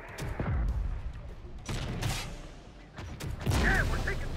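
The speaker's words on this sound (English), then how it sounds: "we're taking fire" Gunfire in the video game Terminator: Dark Fate Defiance, a few loud bursts and booming shots spaced across the moment with a voice talking between them.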